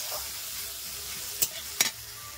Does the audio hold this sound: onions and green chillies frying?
yes